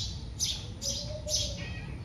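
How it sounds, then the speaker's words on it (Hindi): Small birds chirp in the morning in three short, bright bursts of high tweets at a steady spacing, fairly close and clear over a soft background hum. "सुबह सुबह जो ये चिड़ियाओं की आवाज़ होती है बड़ी प्यारी लगती है सुनने में"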